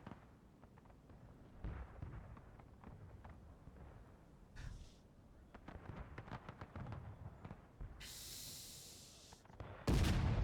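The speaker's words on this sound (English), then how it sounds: "It's like a long distance arty shot, just trying to spook the CSA a little bit" A long-distance artillery shot in the Civil War game War of Rights, on the Miller's Cornfield map, heard as scattered distant booms and cracks, with a loud sharp blast near the end.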